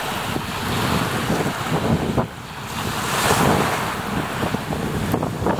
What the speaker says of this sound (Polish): Ale wiatr. Palmy gną się coraz bardziej.